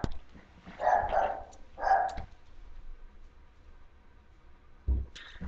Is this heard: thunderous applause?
no